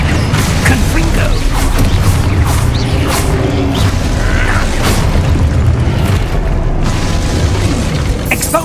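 Explosions from the Confringo spell in the Hogwarts Legacy video game sound as dense, loud booms and crashes over a constant rumble of combat effects, with a voice faintly heard in the mix.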